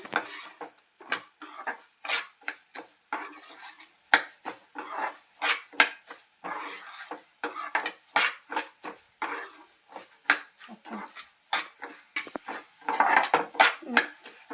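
Coriander seeds dry roasting in a pan for drumstick-leaf spice powder, stirred with a metal spoon that clinks and scrapes against the pan in quick, uneven strokes, close and fairly loud, with no talking.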